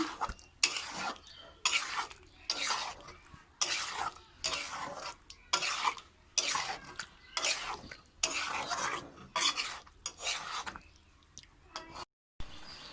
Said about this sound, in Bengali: এবার দিয়ে দেবো ডিম। ভালো করে মশলার সঙ্গে মিশিয়ে নেব।